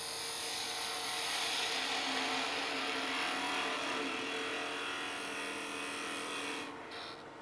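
A wood lathe spins as a gouge cuts a wooden goblet, giving a steady, continuous whirring scrape at an even level that eases off and drops away at the very end.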